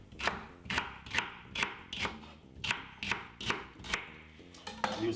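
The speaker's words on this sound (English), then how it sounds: "Now what I'm going to do is cut up my celery." Knife chopping celery on a cutting board, a steady series of about a dozen sharp, close thuds in even rhythm, no talking.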